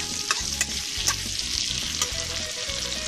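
A teaspoon of cumin seeds fries in hot oil for pav bhaji while being stirred, giving a constant dense sizzle with several sharp spoon scrapes against the pan.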